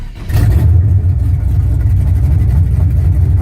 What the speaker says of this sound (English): All right, she cranks right up.